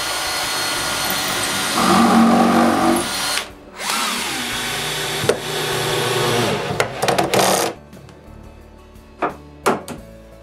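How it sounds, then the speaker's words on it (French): A power drill bores chamfered holes into the underside of a wooden nightstand base, loud whirring bursts in several runs separated by pauses, with thunks and clicks of the tool and wood between. "percer des trous avec un chanfrein sous la base"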